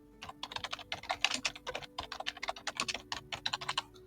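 Rapid typing on a computer keyboard, a steady run of close, crisp key clicks in quick irregular bursts with short pauses, and no talk.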